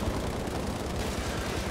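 Gunfire in the Battlefield Mobile first-person shooter, a dense, loud, continuous roar of rapid shots with no break across the whole short stretch.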